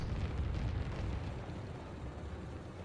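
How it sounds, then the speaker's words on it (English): Massive explosions in the Call of Duty WWII video game roar as a dense, loud, continuous low rumble that fades slightly toward the end, with no talking. "massive explosions."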